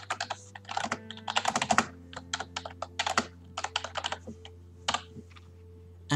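Rapid, uneven bursts of keystrokes on a computer keyboard as a book review is typed, close and clear over a steady low hum, with short pauses between flurries of clicks.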